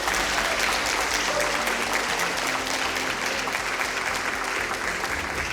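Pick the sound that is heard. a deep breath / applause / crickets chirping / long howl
applause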